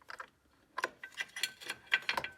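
A 10mm spanner turning a hex drive T30 Torx bit to remove a stubborn bolt during BMW E92/E93 3 Series bumper removal makes a series of close, irregular metallic ratcheting clicks and ticks in short bursts.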